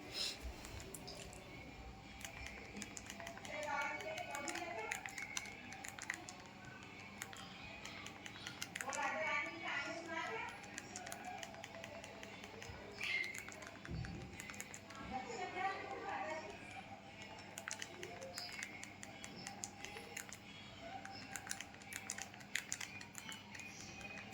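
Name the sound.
typing login details on a keyboard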